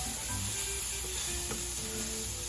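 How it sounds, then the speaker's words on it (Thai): Mushrooms stir-fried in a pan with onion powder and pepper give a steady close sizzle and crackle that runs the whole time, with no voices. "ก็ไม่มีอะไรก็แค่ผัดเห็ดผัด"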